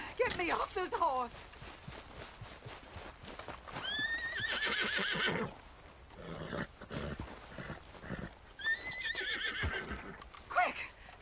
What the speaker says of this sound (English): Get me off this horse!